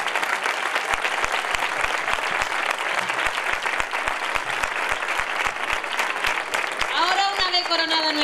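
A crowd applauds steadily at a children's festival queen coronation during the 2014 Facinas fair, with dense clapping throughout, some rhythmic beats underneath and a voice rising over the end.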